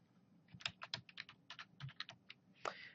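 Rapid keystrokes on a computer keyboard while code is typed, a quick irregular run of crisp clicks and taps close by and fairly quiet, ending with a slightly heavier key press.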